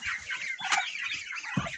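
Ducklings on a farm squeak and peep busily while being fed, a dense, close chorus of high calls with a few soft low knocks.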